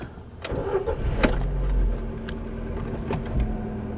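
A Ford Focus engine cranks with a few sharp clicks, catches and settles into a low steady idle, close by.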